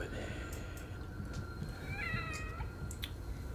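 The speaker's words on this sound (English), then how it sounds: "We found out later that the cat is the evil within." A cat meows inside the horror video game The Evil Within, a few short, fairly clear cries over low game ambience and background rumble.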